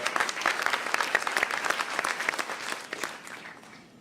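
A keynote audience at a wine bloggers conference applauds in a sustained wash of many hands clapping at moderate distance, gradually tapering off toward the end.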